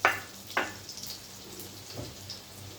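Garlic dropped into hot fat in a pan gives soft crackling sizzle bursts, two sharper hits at the start followed by a faint, low hiss, close and quiet with no speech.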